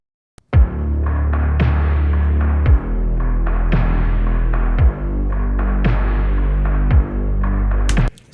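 Dark arrangement with a growling Reese bass and sub under punchy drums: heavy sustained low bass broken by kick hits about every second or two, loud and dense, no voices.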